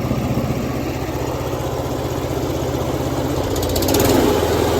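A Toro Super Recycler GTS5 lawn mower engine idles steadily while warming up after a throttle repair, a loud continuous close running drone that picks up slightly near the end.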